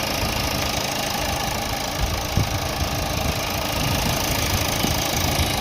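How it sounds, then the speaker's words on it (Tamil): A 2016 Toyota Etios idles close by with a steady, even mechanical hum and light knocking ticks, loud and constant with no voices. "வண்டி காரோட இன்ஜின் சவுண்டு இப்போ பாருங்கள்"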